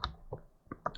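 Computer keyboard keys clicked during a command-line task, a few crisp separate key taps across a second, quiet and close.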